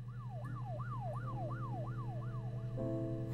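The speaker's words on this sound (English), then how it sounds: "there's even sirens outside" Police sirens wail outside in the video game Her Story, a repeated rising-and-falling tone, faint and distant over a steady low hum, then switching to a steadier held tone near the end.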